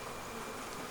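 Honey bees buzzing inside a hive, a steady, dense, faint hum that fills the whole moment without a break.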